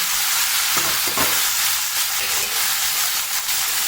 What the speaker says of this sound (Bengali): তো এই যে ঘিটা গরম হয়ে গেছে, তো আমি এবার রাইসটা দিয়ে দেবো।